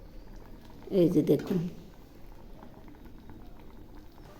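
Pineapple chutney bubbles in a pan, with a brief burst of thick bubbling and popping that rises and fades within a second, under a woman's short spoken remark and faint kitchen background.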